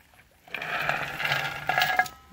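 A rusty chain tumbles out of a container in a short, rattling metallic cascade with clinks and jingles that swell and fade within about two seconds.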